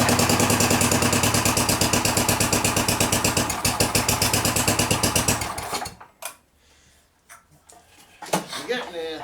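A finicky snow blower engine runs loud and close with a rapid, uneven rhythm while the choke is adjusted, then cuts out abruptly near six seconds, leaving a few knocks and sputters.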